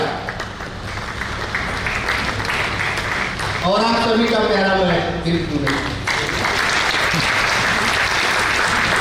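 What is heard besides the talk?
audience applause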